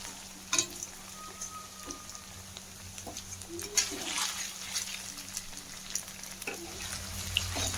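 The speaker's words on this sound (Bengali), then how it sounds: "ভেজে নেবো পনির খুব হালকা হয় একদম ভাজতে বেশি টাইম লাগে না" Paneer cubes frying in a pan for chilli paneer, a low steady sizzle with occasional soft pops and spatula clinks, close and moderately quiet with no talking.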